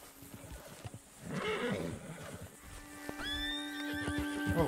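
In the video game Red Dead Online, hooves clip-clop in a steady trot, then a horse lets out a loud, rising whinny that trails off as the hoofbeats continue.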